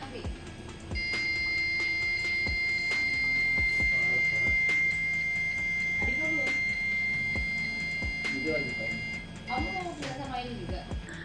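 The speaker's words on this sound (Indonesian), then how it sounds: "Saat sensor yang diletakkan di box atau kendaraan mendekati suatu objek pada saat parkir, LED dan buzzer akan menyala seperti pada video berikut" An Arduino parking sensor buzzer on a test box emits a steady high electronic beep tone for several seconds, with faint clicks and a voice speaking in the background.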